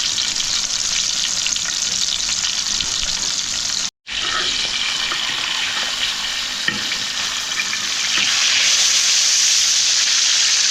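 Fish deep frying in hot oil in a seaside resort kitchen, a steady loud broadband sizzle and hiss that drops out for a moment before resuming, continuous and close.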